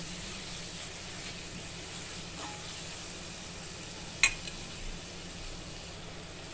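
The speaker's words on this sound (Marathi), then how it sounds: "आलं लसणाचा कच्चा वास जाईपर्यंत आपल्याला हे परतून घ्यायचे" Ginger-garlic paste sautéing in a pan for a chana paneer masala, a steady soft sizzle with a single sharp clink of a utensil midway.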